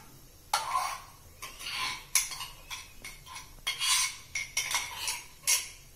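Pineapple paste being stirred into sugar syrup in a pan for pineapple halwa, with a spoon scraping and clinking against the metal in repeated close strokes, no talking.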